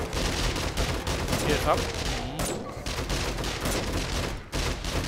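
Rapid SMG fire and other gunshots in a shooting video game, in dense, loud bursts with brief gaps, while someone speaks briefly over the shooting.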